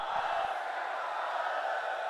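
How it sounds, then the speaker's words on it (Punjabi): A large rally crowd in Punjab, gathered for Bhagwant Mann's swearing-in in Bhagat Singh's village, raises a sustained loud roar of chanted slogans, steady and unbroken throughout. "ਦੋਨੇ ਹੱਥ ਉੱਪਰ ਚੱਕ ਕੇ ਦੋ ਨਾਰੇ ਲਾ ਦਿਓ"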